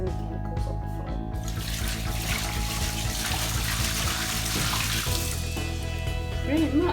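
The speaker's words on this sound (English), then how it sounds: "Wave 2 is just going to be hot water so I don't mix any chemicals on the floor." Hot water poured across a floor during a cleaning session, a steady splashing gush that runs continuously and fairly loud, with a brief change in flow partway through.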